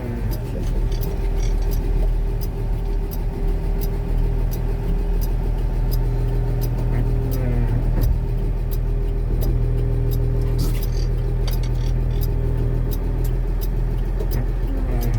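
A truck drives along a curb with a steady low engine rumble, accompanied by rattling and small knocks from the vehicle. The sound is continuous and close, with no voices.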